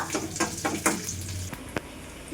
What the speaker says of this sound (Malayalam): കറിവേപ്പില ചുരുളൊന്ന് മൂക്കട്ടെ